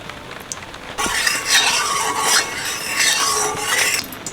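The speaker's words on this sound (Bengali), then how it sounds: "মাছের মাথাটা ভেজে নেব সরিষার তেল" Catla fish head frying in mustard oil; after a quiet second a loud hissing sizzle starts and swells in waves, with light scraping of a utensil against the pan.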